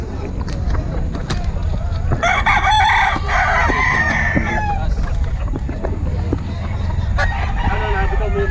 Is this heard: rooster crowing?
yes